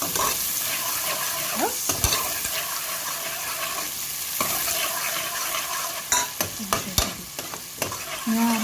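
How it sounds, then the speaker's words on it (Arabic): Onions fry in a pan for a vegetable casserole, a loud continuous sizzle broken by clattering spoon-stirring knocks and scrapes, with a brief spoken word near the end. "اقلب كده البصلايه شويه لحد ما تصفر معايا."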